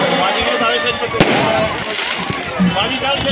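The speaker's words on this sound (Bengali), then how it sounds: "চলছে আতশবাজির বিস্ফোরণ।" Fireworks go off at a community celebration in Durgapur, with one sharp, loud bang and scattered crackling pops over the steady chatter of an onlooking crowd.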